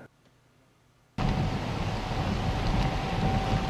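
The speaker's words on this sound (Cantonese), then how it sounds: "杏花邨凌晨嘅風勢明顯加強，路邊嘅路牌都被吹喐" Strong typhoon winds from Super Typhoon Ragasa roar at Hang Fa Chuen, Hong Kong, in the early morning under a No. 10 hurricane signal. A quiet start gives way to a sudden, loud, sustained buffeting rush of wind.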